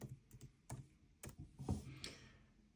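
Faint typing on a computer keyboard, with a quiet run of irregular clicks and taps spread over a few seconds.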